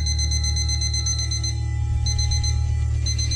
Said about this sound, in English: stay and listen to this lovely alarm clock